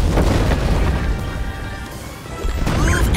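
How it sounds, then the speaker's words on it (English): Loud, sustained blast and crashing rumble from an explosion in the Rush: A Disney/Pixar Adventure video game, with debris-like smashing continuing throughout and a fresh burst near the end. "You don't want to be anywhere near the explosion."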